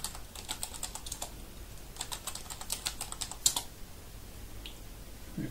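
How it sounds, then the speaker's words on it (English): Fast, light keystrokes on a computer keyboard as a password is entered while setting up a Raspberry Pi, quiet and close, arriving in short bursts with brief pauses between runs of clicks. "I'm going to be very imaginative here and type in password."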